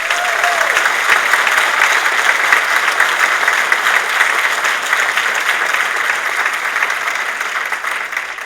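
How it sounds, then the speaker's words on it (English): Dense, sustained applause from an awards-ceremony audience honouring sports nominees fills the room, loud and even, tapering slightly toward the end. "I think they deserve a round of applause."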